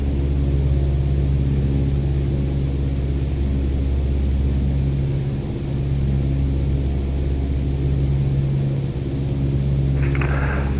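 A Cessna 152 engine in a VATSIM flight simulator drones in a loud, steady, close cabin rumble with a constant tonal hum, swelling slightly twice, and no talk over it.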